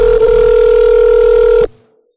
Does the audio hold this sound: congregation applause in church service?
no